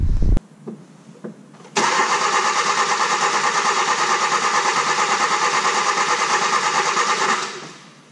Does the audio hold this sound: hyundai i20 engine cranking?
yes